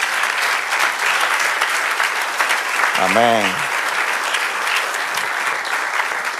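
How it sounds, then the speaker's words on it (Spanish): A church congregation claps loudly and steadily through a Spanish-language service, with a brief sung or spoken amen from the pastor rising over the applause midway. "dele aplauso al Señor"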